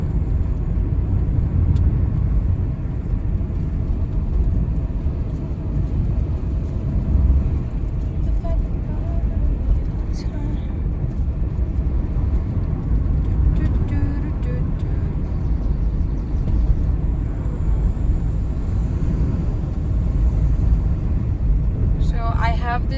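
An old car drives along mountain roads in Mizoram, its steady low engine and road rumble continuous and close throughout, with faint clicks and rattles near the end.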